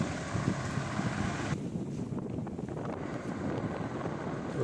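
Strong storm wind roars and buffets the microphone, loud at first and then easing slightly while gusts keep rushing through.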